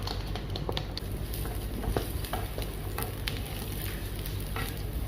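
Steady sizzling and crackling of onions frying in a pan, with occasional stirring scrapes, close and continuous with no talking.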